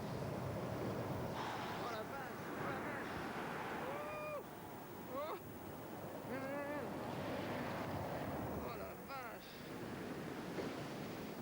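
Heavy surf on a big-swell day in Hawaii rumbles as a continuous broad roar of breaking waves and wind, with a voice talking over it.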